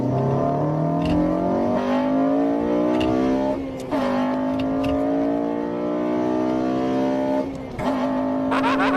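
A Honda car engine revs hard as VTEC kicks in, loud and close, its pitch climbing in repeated rising sweeps with brief drops between gear shifts.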